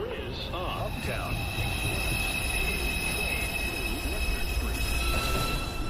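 A Manhattan-bound NYC Subway 2 train at 215th Street, its wheels squealing in long high screeches over steady rumbling rail noise, close and loud throughout.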